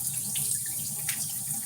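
Steady hiss of shower water running close by, an even rush of spray without voices.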